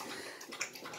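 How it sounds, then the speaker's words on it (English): Water runs faintly in a home kitchen, a soft steady hiss with a few small splashes, set well back in the room. "excuse the water noise in the background."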